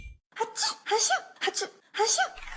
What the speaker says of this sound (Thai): เมื่อมีอาการจามเนื่องจากโรคภูมิแพ้